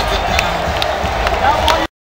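Football crowd at Mizzou's 2010 homecoming game cheering and clapping as fans rush the field, a dense, continuous roar with scattered claps and shouts, cutting off abruptly at the end.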